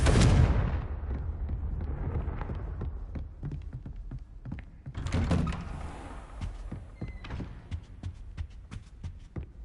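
A Confringo fire spell blast in Hogwarts Legacy, two heavy booming explosions with rumbling crackle and scattered impacts trailing after each, loud and close with no talk.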